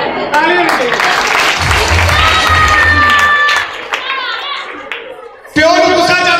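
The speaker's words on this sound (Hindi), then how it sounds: "ताली होनी चाहिए" An audience at a Punjabi comedy magic show breaks into loud clapping and cheering, with a speaking voice over it that briefly drops out before the applause surges back sharply at the end.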